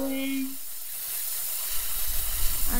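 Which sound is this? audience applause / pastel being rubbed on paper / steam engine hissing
steam engine hissing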